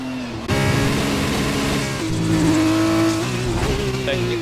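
A Formula 2 race car in a racing video game at the British Grand Prix drones with a steady, high engine note that shifts pitch as it accelerates, sustained throughout beneath a commentator's voice.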